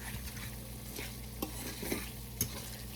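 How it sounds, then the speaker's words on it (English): Pork chop casserole mixture stirred in a pan with grease, a steady scraping shuffle over a low sizzle, with a few sharper clinks of the spoon against the pan; no one talks. "We're gonna stir that together."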